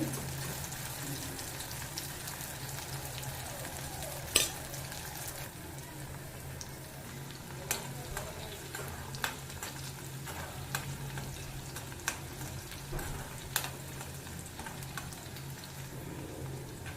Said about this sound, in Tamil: வெண்டைக்காய் ஃப்ரை ஆகிட்டு இதை தனியாக எடுத்துடலாம்